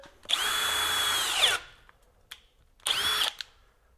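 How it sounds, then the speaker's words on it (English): A Hercules HCB92B 20V hammer drill bores with a 1-inch auger bit, giving a loud, close motor whine for about a second that bogs down, then a short click and a second, briefer burst. "So now we're going to step up to a 1-inch auger bit."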